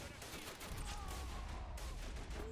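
Machine gun fire in a WW1 video game during a French charge at Fort de Vaux: dense, continuous gunfire rattles throughout, loud and sustained, with other shots mixed into the battle noise.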